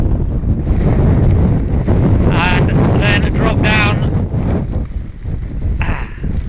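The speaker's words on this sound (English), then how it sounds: "God, it's really windy up here." Strong wind on Howden Moor buffets the microphone in a steady roar, with a person speaking briefly underneath the gusts.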